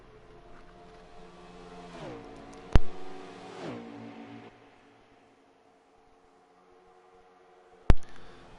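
Race cars accelerating on the oval track at Chicagoland, engines rising and sweeping in pitch as they pass, with two sharp clicks and a quieter stretch toward the end.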